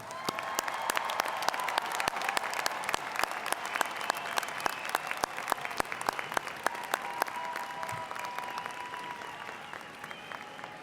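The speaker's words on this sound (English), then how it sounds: "let's join in a round of applause for all the graduates" A large crowd at a university commencement ceremony applauds the graduates, sustained dense clapping filling the hall at an even, loud level from start to finish.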